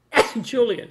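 A single short sneeze bursts out close to the microphone, followed by a brief spoken word from the same person.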